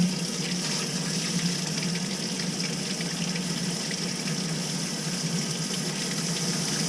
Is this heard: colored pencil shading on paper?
no